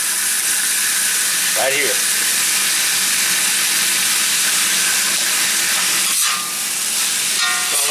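Ginger sizzling and hissing in a hot cast iron wok during a ginger beef stir fry, a steady close frying sizzle throughout, with a short spoken remark over it.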